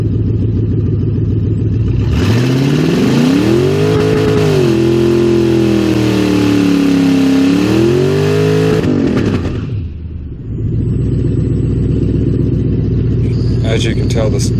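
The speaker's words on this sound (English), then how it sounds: "we decided that we were going to send the 150 shot directly off the line" A Toyota drag car launches off the line at a Knoxville dragstrip on a 150 nitrous shot, its loud engine roaring and climbing in pitch for about seven seconds before backing off, then idling in a steady rumble.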